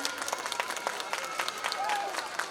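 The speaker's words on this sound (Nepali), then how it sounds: "आदरणीय नगर शिक्षा अधिकारीज्यूलाई जोरदार तालीले बिदाई गरौँ।" Audience applause at a school Parents Day event as the city education officer is bid farewell, steady crowd clapping of moderate loudness with scattered sharp claps and some voices mixed in.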